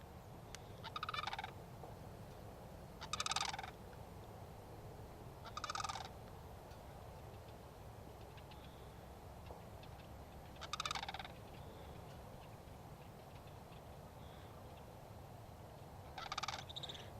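Cranes calling at the Cosumnes bird preserve near Galt, California: five separate bugling bursts spaced several seconds apart, moderately distant, over a low constant outdoor rumble with no talking.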